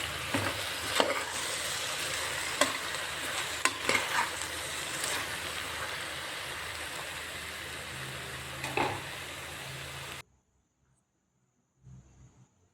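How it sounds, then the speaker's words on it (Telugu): Mixed vegetables and masala fry in a pan for vegetable kurma, a continuous close sizzle broken by occasional sharp stirring clacks, then cutting off into near silence near the end. "రిమైనింగ్ ఉన్న వెజిటేబుల్స్ అన్నీ యాడ్ చేసుకొని మసాలాను కూడా వేసి బాగా ఫ్రై చేసుకున్న తర్వాత"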